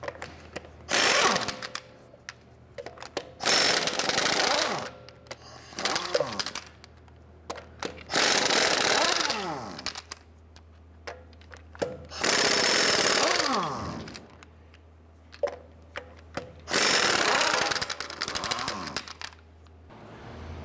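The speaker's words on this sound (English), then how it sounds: "Using a 22 millimeter socket, let's go ahead and remove our lug nuts." Lug nuts come off a 2011-2018 Ram 1500 front wheel with a 22 mm socket on an impact gun, loud repeated rattling bursts of a few seconds each, about five in a row with short pauses between.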